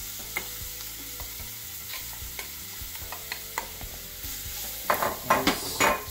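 Grated beetroot sautéing in a pan, a steady sizzle with repeated stirring scrapes that grow louder and more frequent toward the end.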